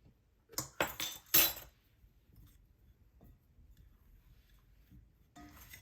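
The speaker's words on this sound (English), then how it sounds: "now we're gonna add our water and slowly fork that in as well to form a ball" A fork scrapes and clinks against a bowl while mixing water into flour and shortening, a few sharp close taps early on, then faint quiet stirring.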